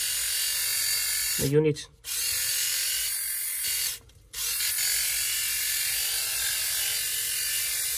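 A men's four-blade electric shaver runs with a steady, close buzzing whir through the whole stretch, cut by two brief gaps, while someone speaks briefly over it.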